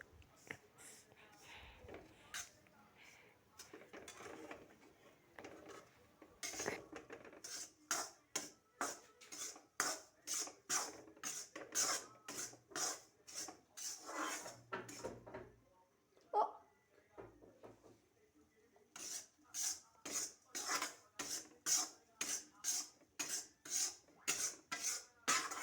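A spoon stirs and scrapes bubbling ghee in a pot in a village kitchen near Kullu-Manali. The rasping strokes come close and rhythmic, in two long runs split by a brief pause.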